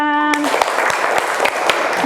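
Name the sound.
schoolchildren clapping in classroom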